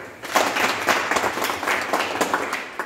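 Audience at a motivational talk for government ITI trainee youth claps together, a steady close burst of applause lasting the whole few seconds with no talk over it.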